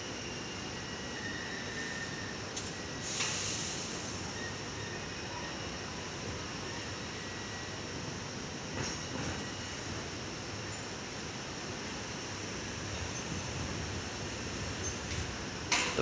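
An eight-car Tangara electric suburban passenger train rumbles steadily nearby at Parramatta station, a continuous low drone of motors and wheels with occasional brief squeals, no voices.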